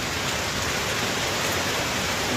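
Heavy rain pours down on a village in a dense, unbroken hiss of drops striking surfaces all around, loud and constant with no voices.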